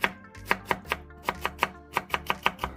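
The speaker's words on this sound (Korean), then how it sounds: "당근 약간을 채 썬 후 잘게 썰어주세요." A knife finely chopping julienned carrot on a cutting board: about fourteen crisp, close knocks in a slightly uneven, steady rhythm, with no voices.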